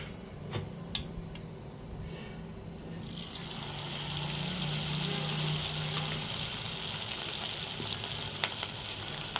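Cauliflower florets dropped into very hot oil, the frying quickly swelling into a loud, steady, hissing sizzle after a few faint clinks at the start, continuing without speech.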